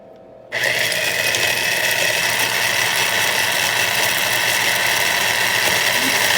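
Electric grinder running continuously as lemons are ground up for garden tea, a loud steady whir that starts abruptly after a brief quiet moment and holds to the end.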